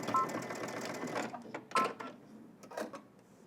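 Home sewing machine stitching a seam on baggy sweatpants, with short bursts of motor whir and needle clatter that start and stop several times, close and moderately loud.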